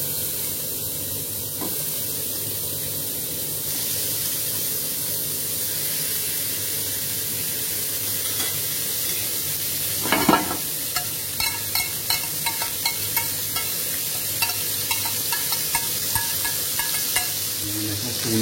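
Marinated beef steaks sear in an olive-oiled pan with a steady close sizzle and hiss throughout, plus a few clatters and sharper crackles toward the end; no one speaks.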